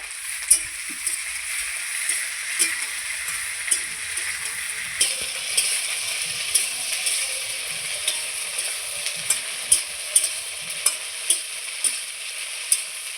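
Okra stir-fried in oil in a pan, a continuous close sizzle with regular sharp scrapes and taps of a spatula stirring the vegetables, steady throughout with no talking.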